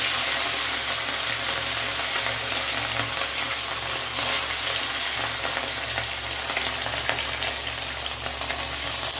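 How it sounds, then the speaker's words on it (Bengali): Fish fries in a pan with a loud, steady sizzle and crackle of hot oil, a dense hiss that runs through the whole stretch, with faint stirring underneath and no one speaking. "তাহলে আগে মাছগুলোকে ভেজে নিই"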